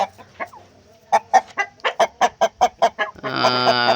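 Rooster and hens on a farm, cluck in a quick run of about ten loud, close, evenly spaced calls, then a long harmonic crow starts near the end; no voices.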